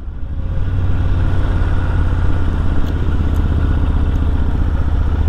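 A Kawasaki VN1500 chopper motorcycle engine runs steadily with a deep, loud, throbbing low rumble and a constant even pulse, with no talking.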